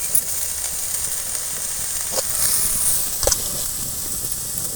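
Pulicha keerai (sorrel leaves) sauté in a pan with a soft, steady sizzle, broken by a couple of short clicks as the leaves are stirred.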